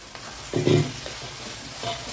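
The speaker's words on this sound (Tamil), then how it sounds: "இப்போ இந்த ஸ்டேஜில் நான் எடுத்து வச்சுருக்க கத்திரிக்காய் போட்டுக்கிறேன்" Eggplant tipped into hot oil for kathirikai kara kulambu, with a short burst of sizzle and stirring that settles into a quieter steady frying hiss, heard close.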